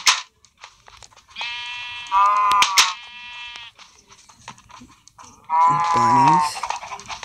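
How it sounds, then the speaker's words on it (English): Sheep bleat in a video game with farm animals, two clear harmonic bleats near the middle and end with faint game sounds between them; a person talks briefly at the start. "Sheep."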